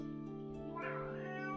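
A house cat meows indoors, a single drawn-out mid-pitched cry with rising and falling harmonics, clear and close over a steady low hum of background noise.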